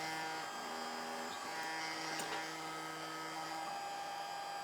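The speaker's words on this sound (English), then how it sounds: "turn my blower on just low and let it blow a little bit on that and let it get dry" A blower running on low over drying paper clay gives a steady, faint electric hum with a buzzing whine, unbroken for several seconds with no talking.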